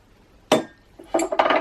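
A spatula scrapes down a plate or bowl of vanilla mixture while making gluten-, lactose- and yeast-free ring doughnut batter: one sharp clink, then a short run of scraping knocks, close and fairly quiet.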